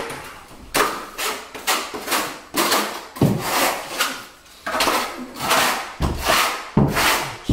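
A square notch trowel spreads modified thinset over a membrane on a heated floor install, making loud, close, rhythmic scraping strokes, roughly one per second with short pauses between sweeps, and no talk.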